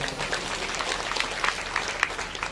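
A seated audience at a Shiv Mahapuran religious discourse gives a round of clapping. The many hands make a fairly close, continuous applause that holds steady throughout.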